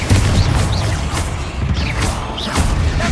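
The Confringo blasting spell goes off in a Hogwarts Legacy tomb as a loud, dense booming rumble of explosions that lasts throughout, with scattered higher crackles and no speech.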